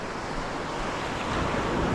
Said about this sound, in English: Boy, the waves are big.